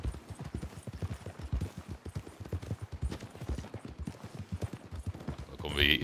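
Steady rhythmic clip-clop of a horse's hooves while riding near Blackwater in Red Dead Redemption 2, moderately close, with someone talking over it.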